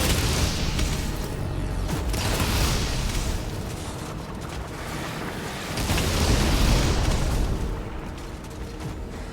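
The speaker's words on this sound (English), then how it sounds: "Okay, those explosions actually do decent damage." Explosions in the demon-fighting shooter Doom: The Dark Ages, heard as sustained, loud, rumbling booms with roaring blasts that swell and fade over several seconds amid chaotic game noise. No one speaks.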